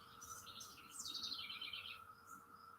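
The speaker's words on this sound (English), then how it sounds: "The birds are loud in the background." Birds chirp and trill outdoors in the morning, several bright calls rising and falling over a faint steady background hum, fairly quiet and without voices.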